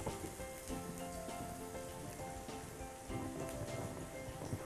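Onions hit hot new virgin olive oil in a pan and sizzle with a dense, crackling hiss, steady from start to finish, with a few louder surges along the way.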